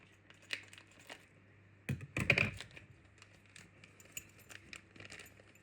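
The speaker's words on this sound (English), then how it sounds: "I'll just cut it with a pair of scissors" Scissors snip through a small plastic retaining pin on a Lockwood 3772 mortise lock, a faint crunching cut in the middle, surrounded by light clicks and rustling handling noises over a low hum.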